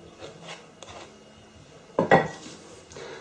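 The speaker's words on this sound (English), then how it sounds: "Just scrape the spoon." A spoon scrapes chocolate cake mixture from a bowl, a few quiet rubbing strokes followed by two sharper metallic scrapes and clinks close by.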